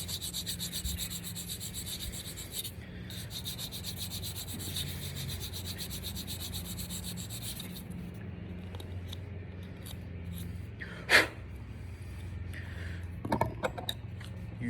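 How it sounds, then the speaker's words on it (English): A 180/100 grit emery board rubs across a Bois D'Arc (hedge) wood insert held in a jig, giving soft repeated scratchy sanding strokes, close and quiet, with a few sharper scrapes later. "180 100 grit emery board to do all my tuning. I'll run it in the cork notch and run it across the jig."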